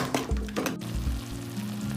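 Masala being sautéed in a pan for Chettinadu masala idiyappam, a steady close sizzle and fry with soft stirring scrapes throughout.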